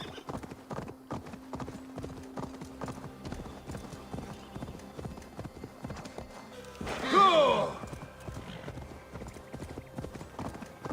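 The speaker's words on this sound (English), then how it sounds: "Come on, my magical, mystical steed." A horse in Assassin's Creed Valhalla moves at a steady trot with clear, even hoof clip-clops, then gives a short loud whinny partway through before the hoofbeats go on.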